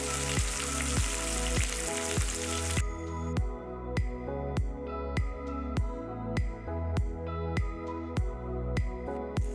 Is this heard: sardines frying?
yes